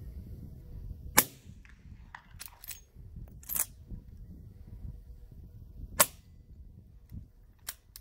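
Suppressed .357 Magnum rifle with a 16-inch barrel and Diligent Defense DTF STI silencer fires several sharp, clipped reports spaced seconds apart, each a brief crack over faint outdoor background.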